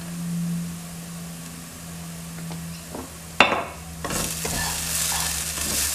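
Turmeric is stirred into tofu curry frying in a pan for a Keralan moilee. A soft sizzle runs under a sharp spoon scrape, followed by louder stirring and crackling near the end.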